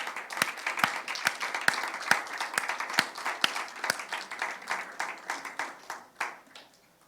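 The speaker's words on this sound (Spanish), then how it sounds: "Dale un aplauso fuerte al Señor." Rhythmic clapping from a church congregation, sharp regular beats about twice a second over a background of scattered claps, thinning out toward the end.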